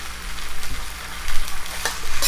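Steak and shrimp searing together in a hot pan for yaki udon, a steady close sizzle and crackle with stirring scrapes and a brief louder burst of frying near the end.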